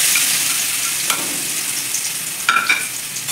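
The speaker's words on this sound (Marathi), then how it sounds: "चांगलं परतून घ्यायचा ठेचा" Crushed green chili thecha with a pinch of hing frying in hot oil over besan, a steady close sizzle with a few scraping stirs of the spatula against the pan near the end.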